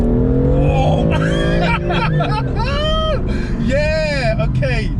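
A BMW M140i engine revs through upshifts and downshifts, heard from inside the car as rising and falling tones with quick rev blips, under loud excited voices talking.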